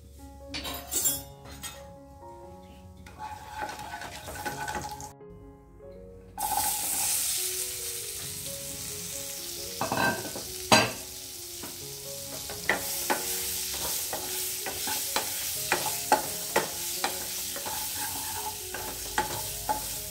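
Karonda berries tossed with turmeric and salt in a pan, a steady sizzle under repeated scraping and clinking of a spoon against the metal, with a louder burst of frying partway through and no talk.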